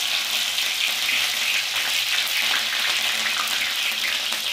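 Cumin seeds, mustard seeds and green chillies crackle and sizzle in hot oil in a kitchen pan, a steady dense frying hiss with small pops that carries on loudly without any talking.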